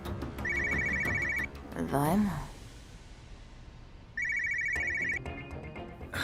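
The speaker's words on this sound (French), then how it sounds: "Ton téléphone sonne." A telephone rings in repeated electronic trill bursts, loud and close, with a pause between rings while a voice speaks briefly in the middle.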